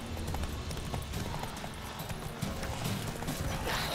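A horse gallops in The Witcher 3 video game, with fast, continuous hoofbeats and a whinny under faint game ambience.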